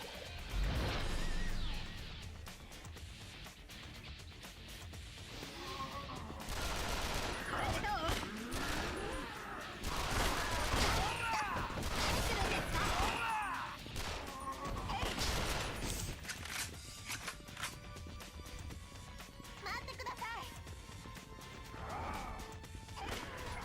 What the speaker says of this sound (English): I'm actually getting kind of low on SMG ammo